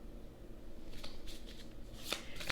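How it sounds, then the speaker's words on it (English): Tarot cards being shuffled close up, a soft papery riffle with crisp flicks and snaps toward the end, quiet and alone. "Let's start with the shuffle."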